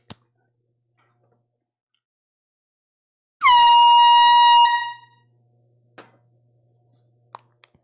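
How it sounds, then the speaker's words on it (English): One loud, close air horn blast lasts just over a second in a quiet indoor room. A few faint ticks and clicks follow. "We got our third air horn of the night."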